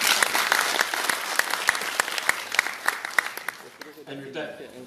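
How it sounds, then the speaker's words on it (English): A forum audience at Pustaka Miri in Sarawak claps in a dense burst of applause that thins into scattered individual claps and fades out, with a voice starting to talk at the end. "Please give them a round of applause."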